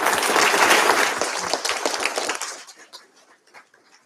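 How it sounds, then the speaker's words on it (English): Conference audience at D Conf 2019 in London bursts into loud, dense applause after a talk, sustaining for about two seconds before thinning into scattered final claps. "Give her a round of applause."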